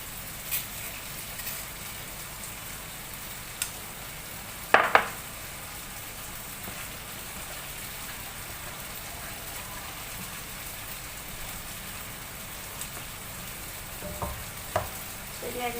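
Tomatoes cooking down in oil for a sambal, a continuous soft sizzle and bubbling with occasional sharp clinks and scrapes of a spoon against the pan, one louder knock midway.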